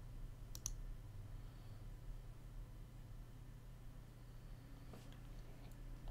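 Two faint computer mouse clicks, one early and one late, spaced far apart against a quiet background hum with no speech.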